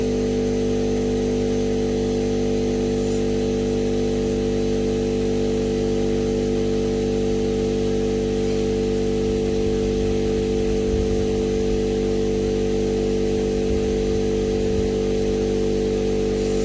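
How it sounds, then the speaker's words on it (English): Air compressor running as it fills its tank, a loud, constant motor hum and buzz droning without break for the whole stretch, close and steady, no voices. "The compressor, trust me, when it's filled, it fills a lot faster than this."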